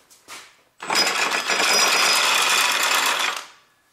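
A power tool loosens engine mount bolts on a Honda Civic, a single close burst of whirring and rattling that lasts about three seconds after a brief click, with no talking.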